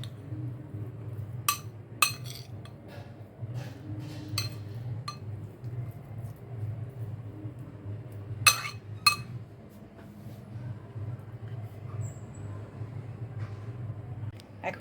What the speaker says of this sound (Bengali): এখন আমি গ্যাসটা অন করে এই প্যানটা বসিয়ে দিয়েছি